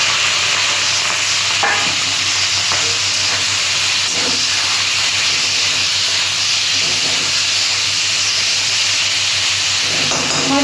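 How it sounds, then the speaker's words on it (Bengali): Shrimp sizzle and spit loudly in hot oil in a pan, a dense, continuous frying hiss with occasional stirring scrapes close by. "তেলটা গরম হয়ে গেছে, আমি মাছগুলো দিয়ে দিচ্ছি।"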